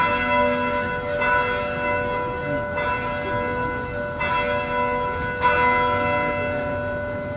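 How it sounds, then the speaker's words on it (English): The eighth and heaviest church bell of the Gordon Stuart Peek Memorial Bells, cast in 1863 and 1937, rings in a steady slow rhythm. Each clear strike leaves a long sustained hum that overlaps the next. "It's the eighth bell, the heaviest,"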